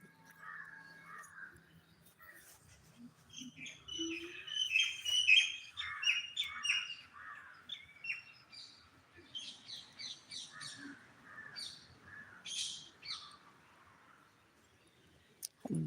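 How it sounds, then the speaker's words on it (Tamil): Small birds chirp and twitter in quick bursts of high calls, with occasional harsher caws, somewhat distant in a quiet outdoor setting. "குருவிகள் சத்தம் கேட்குதா"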